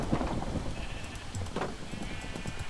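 Sheep bleating in the Minecraft video game, a few short game bleats heard over steady background game ambience with no talking.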